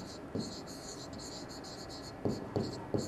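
Marker or chalk writing on a board during a soil mechanics lesson, faint scratchy strokes with a few short taps, quiet and close under a steady background hiss.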